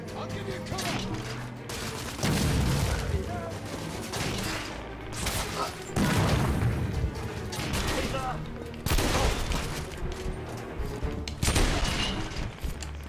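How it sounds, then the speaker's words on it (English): Gunfire in The Order: 1886, including a duelist revolver that fires two shots at once, heard as repeated loud blasts and volleys amid combat noise. "It's called a duelist revolver because it fires two shots instead of one."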